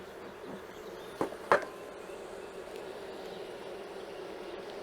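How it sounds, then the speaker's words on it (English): Honeybees hum faintly and steadily around an open hive during an early-season inspection, with two sharp clicks of equipment handling partway through. "Let's see if we can get these bees down."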